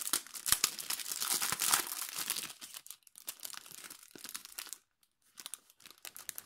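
Plastic packaging on an envelope and card set being opened by hand, a close, steady crinkling and tearing of wrap for several seconds, then a short pause and a few softer crackles at the end.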